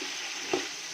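Sliced onions and green chilies sizzle in hot oil tempered with cloves, cardamom, bay leaf and kalpasi, a steady even hiss with a brief stir or clink partway through.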